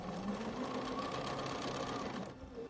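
Fast, steady chattering of a sewing machine stitching fabric for an abstract art quilt, quiet and close, running evenly and slowing to a stop at the end.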